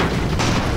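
Bombs go off in a 2D steampunk 40k simulator game, a short burst of loud, deep rumbling blasts with no gap between them.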